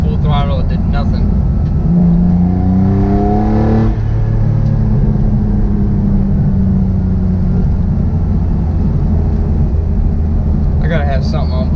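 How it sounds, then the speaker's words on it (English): A restored Mitsubishi 3000GT VR4 strains under full throttle with its engine breaking up, a loud steady drone and rising whine that falter, heard from inside the car while someone talks over it. "It's not running right at all. It's breaking up. That was full throttle. It did nothing."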